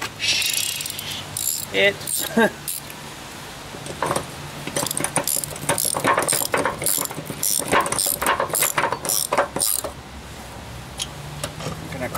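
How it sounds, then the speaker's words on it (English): A ratchet wrench cranks bolts on a John Deere machine, giving rapid, loud metallic clicking in repeated bursts with brief pauses between strokes, and a voice speaks briefly near the start. "Okay, get our ratchet."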